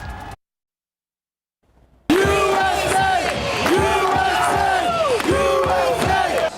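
Soccer fans of San Antonio FC supporters' group the Crocketeers roar and chant at a downtown San Antonio barbecue bar watch party for USA versus Wales at the World Cup; after a brief silence, a loud, dense crowd chant rises in repeated surging swells.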